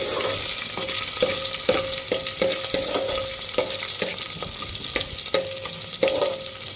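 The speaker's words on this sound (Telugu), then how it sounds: "తెల్లగడ్డలు కూడా కొంచెం వేగాలండి" Garlic fries in a hot pan for a gongura lentil dish, giving a steady close sizzle broken by a dozen evenly spaced spatula taps and scrapes against the metal.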